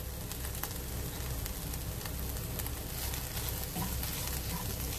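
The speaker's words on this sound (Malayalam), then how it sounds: "എനിക്ക് അല്പം വെളിച്ചെണ്ണ ഒഴിച്ചു കൊടുക്കാം കേട്ടോ" Coconut oil sizzling in a pan with fish roe thoran, a steady dense crackle and hiss that carries evenly throughout, close and continuous with no talking.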